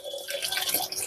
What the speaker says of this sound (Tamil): 800 ml தண்ணி ஊற்றுறேன்